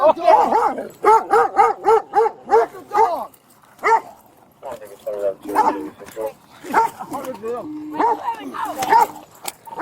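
A dog barks repeatedly in a quick rhythmic burst near the microphone during a heated confrontation, with loud shouting voices overlapping and continuing after the barking fades.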